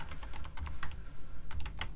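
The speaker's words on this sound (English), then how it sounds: "Then I will type" Typing on a computer keyboard, with quick, irregular clusters of close, crisp key clicks and short pauses between bursts, no talking.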